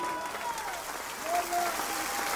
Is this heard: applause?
yes